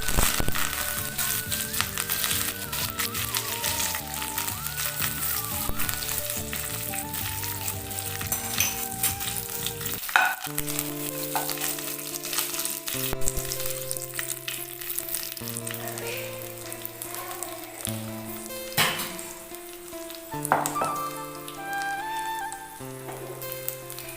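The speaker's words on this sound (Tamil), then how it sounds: "கடுகு பொரிச்சிடுச்சு. கருவேப்பிலை போட்டுக்கலாம்." Mustard seeds and curry leaves sizzle and crackle in hot oil for radish chutney, a steady frying hiss with sharp pops and a few louder bursts, close by.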